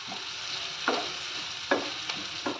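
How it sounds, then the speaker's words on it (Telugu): Chopped onion fries in oil for a Hyderabadi-style cashew paneer curry, with a soft steady sizzle broken by several sharp scraping stirs of a spatula against the pan. "ఆనియన్ అనేది మనకు బాగా ఆయిల్లో బాగా ఫ్రై అయిపోవాలి,"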